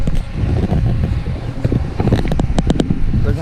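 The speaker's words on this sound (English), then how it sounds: "It's really windy today." Strong wind on Lake Harris buffets the microphone in uneven rumbling gusts, loud and close, with a few sharp flapping bursts near the end.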